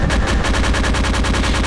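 Rapid automatic gunfire from a gun in a modded Halo video game, a steady, loud stream of closely spaced shots running without a break.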